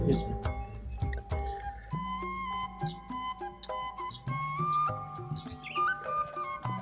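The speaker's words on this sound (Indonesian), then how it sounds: "burung-burung pada bunyi" Birds sing in a garden at Ciloto, Puncak, with clear whistled notes and short chirps arriving in irregular bursts against a quiet background.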